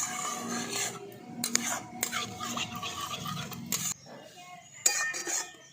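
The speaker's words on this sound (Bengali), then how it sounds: "সেই দইয়ের পেস্টটা আমি দিয়ে দিচ্ছি ঠান্ডা অবস্থাতেই মিলিয়ে দিচ্ছি" Utensil clinks and scrapes against a pot as yogurt paste is stirred into cooked spice masala, a few sharp taps standing out over soft stirring, fairly quiet and close.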